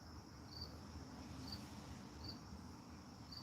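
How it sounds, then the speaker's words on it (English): Crickets chirp steadily outdoors in a quiet, faint scene, a soft high trill with brief brighter pulses recurring roughly every second over low background rumble. "there's crickets here now, and there wasn't before"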